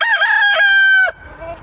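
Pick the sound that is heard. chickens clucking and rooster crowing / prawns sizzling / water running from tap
chickens clucking and rooster crowing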